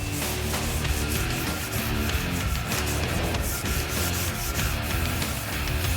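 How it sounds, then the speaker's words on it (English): Continuous hand sanding on the body panel of a 1964 Mercury Comet A/FX drag car, a steady rhythmic abrasive scrubbing, close and loud, with no talking. "some hand sanding will knock off the rest of the shine"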